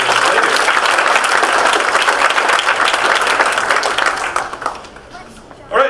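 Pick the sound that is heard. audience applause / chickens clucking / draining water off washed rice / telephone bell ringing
audience applause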